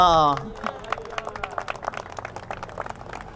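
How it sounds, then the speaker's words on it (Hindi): After a brief voice at the start, an audience at a charitable ashram groundbreaking event claps in scattered, uneven bursts, fairly faint and thinning out. "तालियां"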